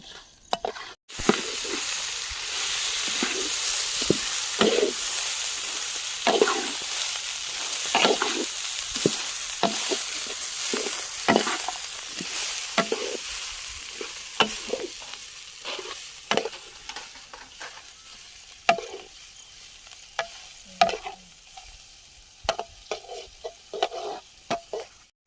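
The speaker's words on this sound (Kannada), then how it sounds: "ಪುದೀನ ಮತ್ತೆ ಕೊತ್ತಂಬರಿ ಸೊಪ್ಪು ಹಾಕ್ಬಿಟ್ಟು ಬಾಡಿಸ್ಕೊಂಡು ಇಳಿಸ್ಕೊಂಡು ರುಬ್ಕೊಂಡ್ರೆ ಮಸಾಲೆ ರೆಡಿ ಆಗುತ್ತೆ ಇವಾಗ." Mint and coriander leaves sizzle steadily in a hot pan for a masala base, with repeated scraping stirs cutting through the frying hiss.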